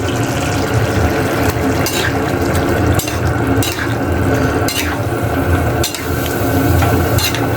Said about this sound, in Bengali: শুক্তোর মধ্যে আমি মাছটি দিয়ে দেবো শুক্তোটা হয়ে গেছে গা মাছটি মিশিয়ে নয়